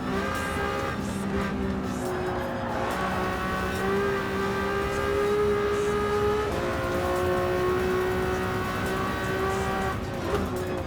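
A Ferrari 296 race car in Gran Turismo 7 roars continuously at high revs, its engine tones rising and shifting through gears, with occasional tire squeal, loud and steady throughout.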